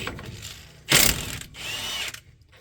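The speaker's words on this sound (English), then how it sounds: "so you gotta get your old Milwaukee out here. Get these bolts out." A Milwaukee power tool backs transmission bolts out of a 1979 Chevy C10 in two short, close, rattling bursts, with quiet pauses around them.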